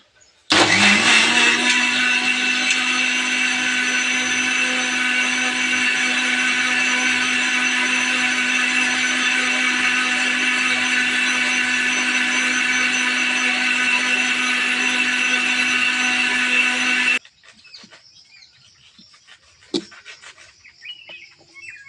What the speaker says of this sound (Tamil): கொஞ்சம் பால் ஊற்றிக்கிட்டு அரைக்கிறேங்க